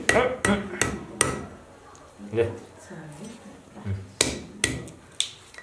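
A knife chopping raw chicken legs on a board, sharp loud thwacks in quick bursts at the start and again near the end, with a voice talking in between.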